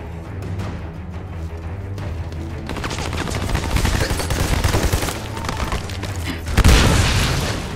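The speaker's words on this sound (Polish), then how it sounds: "Co tam ciągle wybucha? To chyba nasz granaty rzuca" Grenade explosions in the Xbox 360 shooter Army of Two: The Devil's Cartel: quiet at first, then a dense barrage of booms and gunfire-like blasts with a louder burst near the end.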